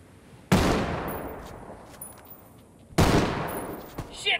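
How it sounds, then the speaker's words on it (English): Enemy gunfire in the video game Quarry comes in two loud, sudden bursts a couple of seconds apart, each cracking sharply and then ringing off into a fading echo, with smaller shots sputtering near the end. "Shit, I'm pinned! Taking fire!"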